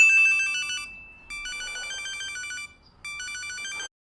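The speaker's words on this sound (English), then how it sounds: "Annoying ringtone wakes up the sleepy person drunk cliche" A phone ringtone plays loudly in three electronic bursts with brief gaps between them, then cuts off abruptly.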